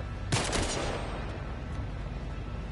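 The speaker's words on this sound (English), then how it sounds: "Dude, I swear this marksman pistol is like a rifle" A single sharp marksman pistol shot in The Last of Us Part I, loud and close, followed by a few quick echoing reports that decay into steady background noise.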